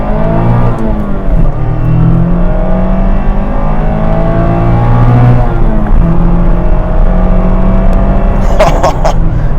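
A 2024 Mazda MX-5 Miata RF GT engine revs hard as the car accelerates, rising through the gears in a loud, sustained drone with pitch climbs and a brief shift dip near the end.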